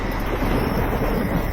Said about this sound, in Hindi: आसमान बादलों से घिरा हुआ था, हल्की बारिश भी शुरू हो गई थी